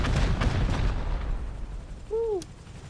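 Rocket blasts go off in a video game helicopter fight, a short run of booming, thudding explosions up close at the start that fade to a low rumble, with a brief whistling sweep near the end.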